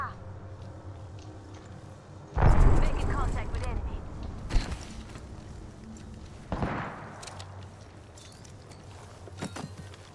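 During an Apex Legends match, a frag grenade goes off in a loud, heavy blast that decays slowly. Later come a smaller burst and scattered mechanical clicks and shots, with game sounds in the background.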